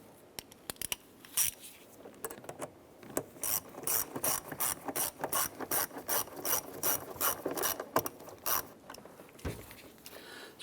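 A ratchet tightens the clamp on the air intake tube of a 2009-2015 Honda Pilot, giving a long run of close, steady clicking strokes in quick rhythmic bursts with brief pauses between them.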